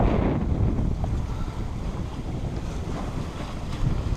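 Sea swell moves around a sailing boat at sea between islands, a low, rolling rumble of water under constant wind buffeting the microphone, with no voices.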